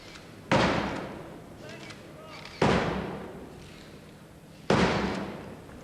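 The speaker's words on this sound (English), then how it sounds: "to use his black rod to bang 3 times" Black Rod's ceremonial staff strikes the door of the House of Commons three times during the State Opening of Parliament, three heavy resonant knocks spaced about two seconds apart, each ringing out in a reverberant hall over a low murmur of voices.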